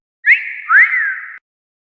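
A sharp rising whistle blown twice as a signal in a martial-arts audiobook scene, two bright overlapping blasts, the second longer with a gliding pitch, heard alone and close.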